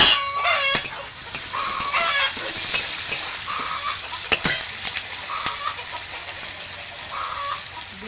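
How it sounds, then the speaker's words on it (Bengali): Onion, garlic and chopped tomato frying in a pan for mutton curry, a moderate continuous sizzle with occasional stirring clatter, while chicken clucks repeat faintly in the background. "পেঁয়াজ রসুন আর টমেটো ভালো করে ভেজে নিয়েছি"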